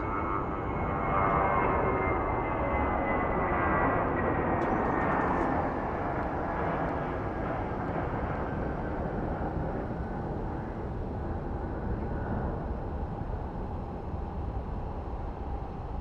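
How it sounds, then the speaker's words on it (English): A JetBlue airliner arriving at Phoenix Sky Harbor airport at night, a loud sustained jet engine roar that slowly fades and settles into a steady rumble. "As you can see, another JetBlue just freaking arrived."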